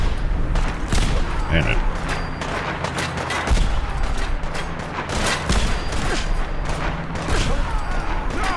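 Sustained gunfire in Fallout 4 rattles in fast, loud bursts with heavy booming impacts, and brief talk is heard among the shots.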